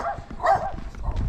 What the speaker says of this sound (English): Oh, that's who was barking. The security system.